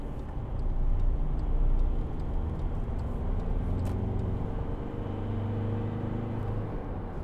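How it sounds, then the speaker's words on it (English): A 2012 Volkswagen Amarok 2.0 BiTDI pickup with four-wheel drive accelerates, a steady low diesel engine drone rising slightly, heard from inside the cabin with no talk over it. "Not a bad turn of acceleration, really, for a big beast, a big pickup."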